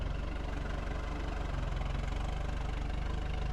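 A backhoe's diesel engine idles steadily at close range, a low, even chugging with a faint knocking pulse that holds without change for the whole stretch.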